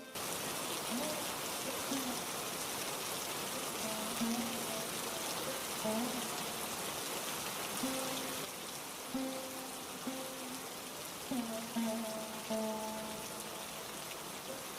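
Heavy rain pours steadily as a dense, even hiss throughout, with faint tonal sounds drifting over it.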